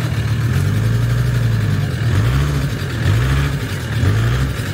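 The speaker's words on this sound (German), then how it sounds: "Fahr mal ein Stück vor, Matze." A VW T4 van's engine runs at a low, steady idle close by, with a few soft rises in revs as it creeps forward and no voices over it.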